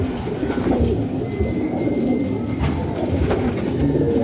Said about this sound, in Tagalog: mga kalapatids, nakipag-away po